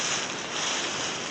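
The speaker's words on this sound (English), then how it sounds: "It's kind of windy today." Strong wind gusting steadily outdoors in the woods during deer season, a loud continuous broadband roar with heavy microphone buffeting and no voices.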